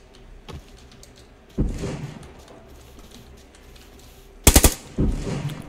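Gunfire in the battle royale game PUBG Lite, heard as a few sharp single shots and a short loud burst of rapid fire at close range, with quieter game sounds in between.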